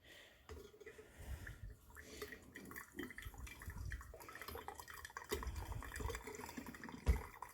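Near-boiling water, around 200 degrees, is poured over coffee grounds for pour-over, a soft continuous trickle and splash with small clinks of kitchenware, close and fairly quiet.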